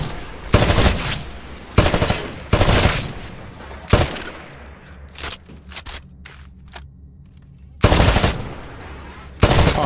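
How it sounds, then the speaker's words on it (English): Rifle shots hit targets on a shooting range in the Titanfall video game, a run of loud, sharp bursts spaced a second or two apart. A quieter stretch of clicks and small impacts comes between the last bursts. "Destroy all of the targets in the shooting range."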